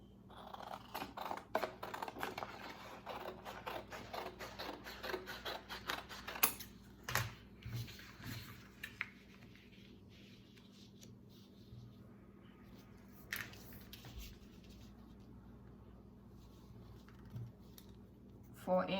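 Scissors cut through cardstock for a nurse scrub cap pattern, making a quick run of crisp, close snips and rustles in the first half, then only sparse faint clicks and handling noises.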